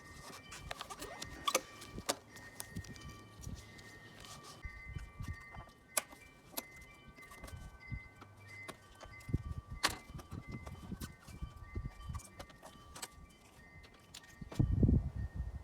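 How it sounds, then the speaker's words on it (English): A plastic trim tool pries the roof rack cover off a Toyota Highlander, producing quiet scattered clicks, scrapes and small plastic snaps, with a louder knock near the end and no talking. "We're going to remove this cover using a plastic trim tool,"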